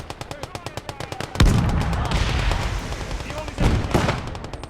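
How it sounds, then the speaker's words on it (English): Automatic machine-gun fire in the Blood Red Snow video game, rapid evenly spaced shots in a steady burst followed by heavier loud blasts and rumbling battlefield noise, with a voice talking faintly underneath. "I think that's an AI machine gun."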